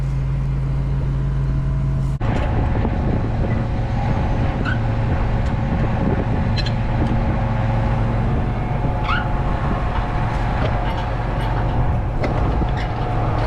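A peanut digger-shaker-inverter with a plow at the front, shaker in the middle and inverter at the back drones loudly and steadily while harvesting green peanuts, its engine hum constant throughout with a sharp clank early on and no talk.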